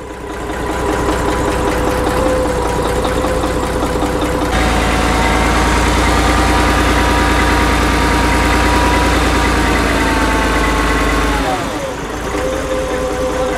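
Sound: bus engine starting and idling

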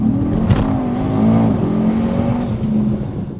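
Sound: Mercedes wagon engine accelerating

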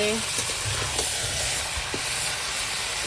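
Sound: goat meat with spice paste frying over a wood fire

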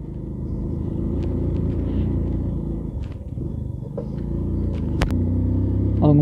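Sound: 100cc motorcycle engine riding, weak timing chain

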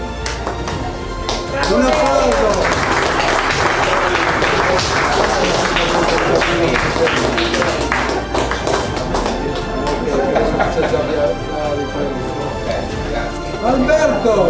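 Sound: applause

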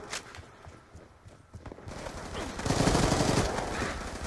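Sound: gunfire in the video game Black Ops 2

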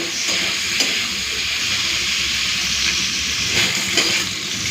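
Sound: bitter gourd frying in oil

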